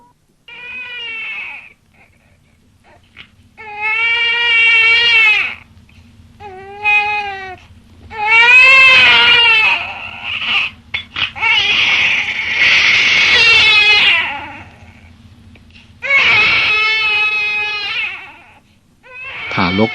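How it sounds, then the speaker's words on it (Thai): A newborn baby cries loudly in repeated wailing bursts, each a strained rising and falling cry separated by short breaths and pauses, close and dominant, played as a sound effect in a narrated story. "ทารกก็พ้นจากคันมารดา ส่งเสียงร้องดังกว่าปกติ"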